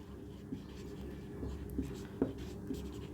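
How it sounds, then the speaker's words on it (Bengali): Writing on a board during a maths lesson, faint scratchy strokes and a few soft taps under a low room hum. "দেখো এখানে আবার লিখে দিচ্ছি"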